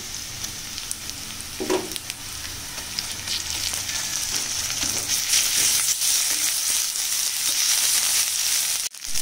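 Oil sizzles steadily in a pan as onions and spices fry, with occasional stirring scrapes and a brief clatter near the end, close up with no talking.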